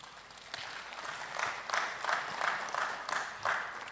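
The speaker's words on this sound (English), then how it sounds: "You want to appreciate PETAN with an applause, please." Audience applause at an HSSE industry forum, a steady wash of many hands clapping with a few louder bursts, moderately distant and filling the room with no talk over it.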